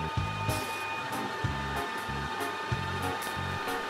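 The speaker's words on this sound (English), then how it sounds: "these carbide inserts are really good at fast speeds, heavy cuts with no coolant" A metal lathe with carbide inserts takes fast, heavy dry cuts on an old gas pipe, sped up, giving a steady loud whirring drone broken by rhythmic low pulses, with no voices.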